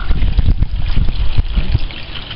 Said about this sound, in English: So here the water's starting to come.